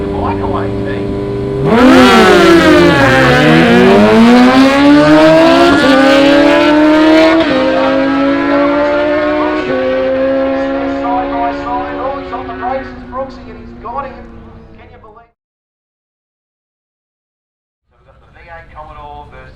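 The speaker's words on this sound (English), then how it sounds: "Commodore versus the twin turbo V6 Stinger." Drag race between a Holden Commodore and a twin turbo V6 Kia Stinger at Willowbank: engines roar hard at launch, rising through gear changes and fading into the distance, then a brief return of engine sound at the end.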